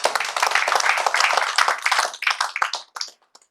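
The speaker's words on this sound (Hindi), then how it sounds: "ताली हो जाए सबके लिए" Audience clapping at a direct selling training event, a dense burst of applause that thins into scattered claps and stops within a few seconds.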